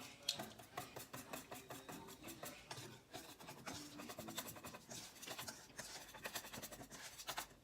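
A steady, rapid scraping and rubbing of a utensil against a bowl while batter for fried Oreos is mixed, repeating in a quick rhythm, close and fairly quiet.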